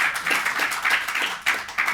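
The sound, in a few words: audience clapping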